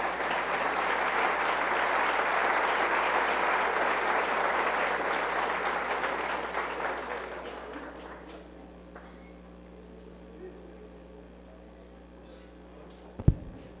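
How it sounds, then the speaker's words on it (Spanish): A crowd applauds loudly and steadily for several seconds, then the clapping fades away into near silence. "Recibámoslo con un fuerte aplauso"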